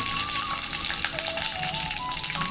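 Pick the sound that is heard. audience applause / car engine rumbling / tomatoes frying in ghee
tomatoes frying in ghee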